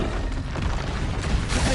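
A Confringo fire spell blasts in Hogwarts Legacy, a loud, dense burst of crackling, rumbling energy that fills the whole moment without letup, with no pause or fade.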